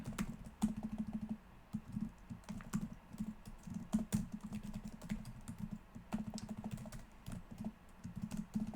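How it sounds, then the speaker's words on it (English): Steady touch typing on a computer keyboard, a dense run of quick, uneven key clacks with occasional louder strokes, fairly close and alone with no talk. "So the trouble with touch typing is that very frequently I'll hit the keys in the wrong order."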